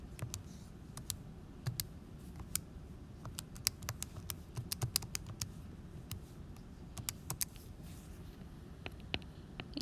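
Keys are tapped on a calculator or keyboard while working a quadratic formula problem, a quiet, irregular series of light clicks over low room hiss.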